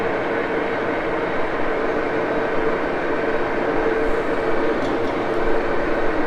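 Engine lathe cutting a camlock chuck back plate from scratch, a steady even machining whir with a constant tone that holds unbroken for several seconds at moderate loudness, with no voices.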